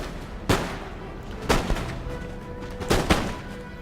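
Musket volleys fire by rank in the Empire: Total War battle, with several sharp crackling volleys spaced about a second apart over a constant rumble of battlefield noise.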